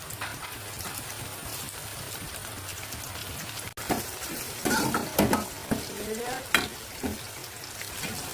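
Green chilli and curry leaves crackle and sizzle in hot oil for a cucumber and raw banana pulissery, a steady loud hiss that swells with sharper pops and spits after a sudden burst midway, no voices over it.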